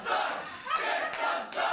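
Wrestling crowd at a live match for Perry Von Vicious vs. Dylan Drake, yelling and roaring steadily throughout, with sharper swells of shouting rising above the din several times.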